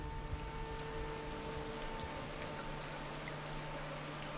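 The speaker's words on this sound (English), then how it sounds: "And it's raining again." Steady, soft rain hiss in the Rain World video game, with a faint tonal hum underneath and no pauses or voices.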